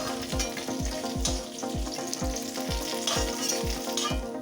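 Cauliflower fries in hot oil in a wok, sizzling continuously while a spatula scrapes and stirs in a steady, regular rhythm of sharp strokes, close and clear with no voices.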